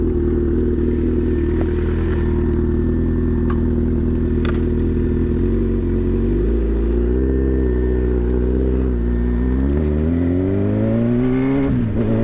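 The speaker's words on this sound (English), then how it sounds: "Let's give him some throttle play." A Honda CB1000R Hornet motorcycle engine revs under throttle, loud and close, its steady growl rising and falling with several climbing blips near the end and no talking.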